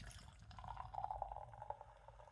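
Cider poured from a can into a glass, a soft continuous gurgling trickle of liquid lasting a couple of seconds, faint and close with no talking.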